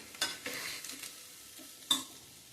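Food, with a little coriander added, sizzles softly in a pan while a spatula scrapes and taps a few times, close and fairly quiet.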